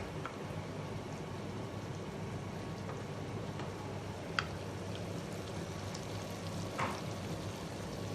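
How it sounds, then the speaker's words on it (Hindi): Masala of tomato and onion fries for mutton kaleji over medium-high heat, giving a faint, even sizzle that crackles softly throughout with a few small pops and no voices. "थोड़ा सा तेज़, ताकि आपका मसाला जो है वो अच्छी तरीके से भून जाए"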